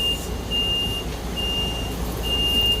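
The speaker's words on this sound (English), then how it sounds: "Sound like the buses." A bus engine rumbles steadily while a high reversing beeper sounds in three long, evenly spaced pulses over the low drone.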